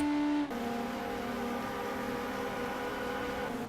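A GT race car engine in a sim racing game's 4 Hours of Catalunya race holds a steady, buzzing drone, dropping in pitch once early on and then sustaining evenly.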